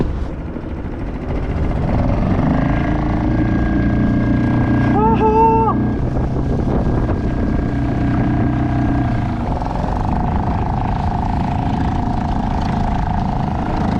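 A small outboard motor mounted on a fishing kayak carrying two men drones steadily throughout, with a brief whining pitch rise early on and wind buffeting the microphone.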